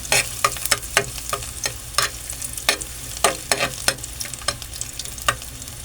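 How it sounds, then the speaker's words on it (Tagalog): Garlic sautéing in hot oil for ginisang monggo, a crackling sizzle punctuated by many sharp spatter pops and stirring clicks, close and busy. "Mainit na yung ating mantika. Igisa na natin yung ating bawang."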